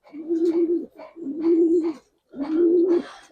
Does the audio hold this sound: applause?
no